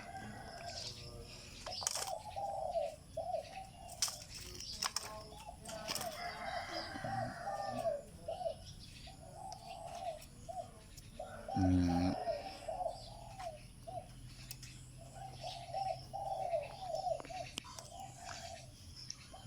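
A pet sam kuk dove coos repeatedly while being fed, its steady rounds of mellow calls close and clear over faint background chatter and occasional knocks.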